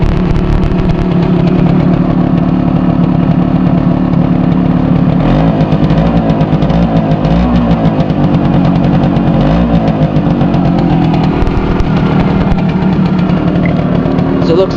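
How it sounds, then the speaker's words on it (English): A Suzuki A100 two-stroke motorcycle, kicked over from cold, runs loudly and steadily with a constant engine drone throughout, with a brief change in pitch midway. "Now not many 2-strokes will start up on first kick when they're cold."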